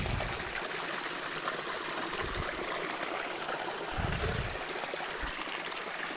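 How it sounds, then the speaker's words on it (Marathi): Rainwater runs through a village gutter channel with a cement-lined section, making a steady rushing, trickling flow heard close and continuous, with a few low bumps. "आणि हे बघा असं पाणी येतं"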